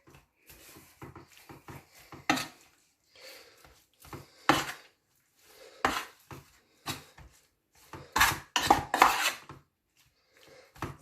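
A utensil scrapes and clinks inside a pot while a Moroccan tagine is stirred, producing irregular close knocks and rasping strokes with brief gaps between them.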